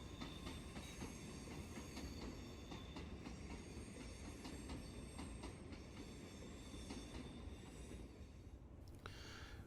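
A Shinkansen bullet train's carriages rush past close by in a steady, loud roar with rhythmic rail clatter and squeal, ending abruptly as the last carriage clears.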